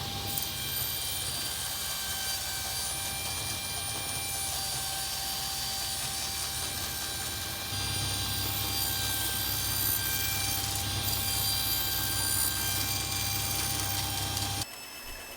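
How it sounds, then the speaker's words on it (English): A bandsaw cuts wooden side pieces for a homemade disc sander, its motor and blade making a loud, constant whine with a steady low hum that deepens slightly partway through the cut, before stopping abruptly at the end. "I'm finishing cutting the side pieces with the bandsaw"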